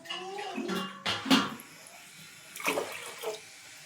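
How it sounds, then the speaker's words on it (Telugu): Water splashes in two short bursts, poured into a pot of washed lentils for tomato dal, close by and fairly soft, with a quiet pause between. "ఇక వాటర్ వేస్తున్నా."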